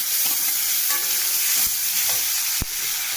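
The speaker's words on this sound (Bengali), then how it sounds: "এগুলো লাল লাল করে ভাজা হবে।" Loud, dense sizzling of crab and bottle gourd frying in oil, with stirring scrapes and one sharp clack near the end.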